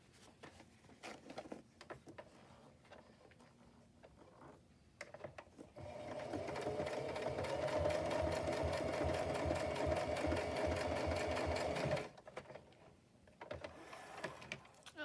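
A sewing machine stitching patchwork fabric tags runs in one steady, loud mechanical burst of about six seconds, preceded and followed by quieter handling clicks and rustles.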